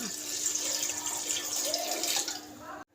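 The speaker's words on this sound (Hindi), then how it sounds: "अब इसमें मैं थोड़ा सा पानी ऐड करूँगी।" Water pours into a pressure cooker holding bone-in beef for yakhni pulao, a continuous splashing trickle running steadily for nearly three seconds before stopping abruptly.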